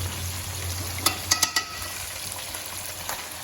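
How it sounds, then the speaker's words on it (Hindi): Fish frying on its second side in a pan, a steady close hiss of hot oil with a few quick utensil clicks and scrapes near the middle, then continuous sizzling alone. "अब वो दूसरी साइड को करेंगे हम फ्राई।"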